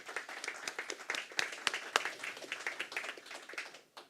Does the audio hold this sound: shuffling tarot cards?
no